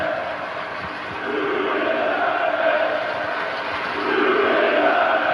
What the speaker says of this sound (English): And the crowd serenading Shadow